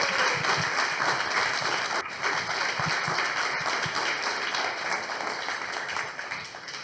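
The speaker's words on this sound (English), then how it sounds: "I would like you to please give them a round of applause" Audience at a startup pitch battle competition in Brighton applauds a pitcher, a dense, steady round of clapping that holds at even loudness throughout, with a faint voice or two underneath.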